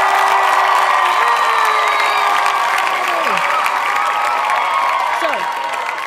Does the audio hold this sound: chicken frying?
no